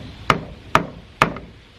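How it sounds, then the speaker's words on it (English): The side of a power drill is used as a hammer to tap a screw into wood, giving three sharp, evenly spaced knocks, each with a short ringing decay, heard close and alone. "I should use the side of them as a hammer"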